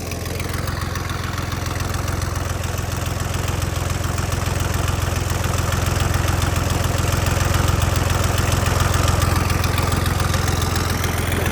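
A John Deere tractor engine idles just after starting, a steady, close diesel chug with a deep rumble and a rapid knocking pulse that grows slightly louder over the stretch, with no talk over it.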